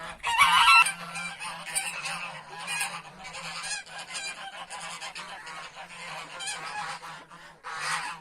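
Geese honk repeatedly nearby on a farm, a steady clamor of overlapping nasal calls with a louder burst at the start and a faint hum underneath.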